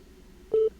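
Phone busy signal in the Simulacra 2 video game, a single short near electronic beep tone, clean and alone.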